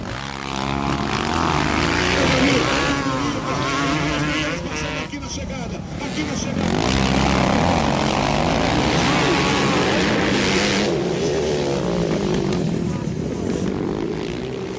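Motocross bikes racing at the 1999 Motocross des Nations in Indaiatuba, Brazil: a constant roar of several engines revving and droning at a distance, rising and falling, beneath continuous commentary from an announcer.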